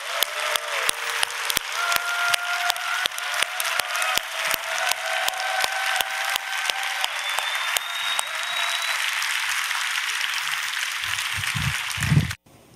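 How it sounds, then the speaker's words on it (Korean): Sustained audience applause at a missionary training school graduation ceremony, many hands clapping steadily and densely for about twelve seconds before stopping abruptly, with sharp percussive clicks scattered through it and a faint tone running underneath. "박수 한번 해주시기 바랍니다"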